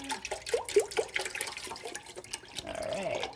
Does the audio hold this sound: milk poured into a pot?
yes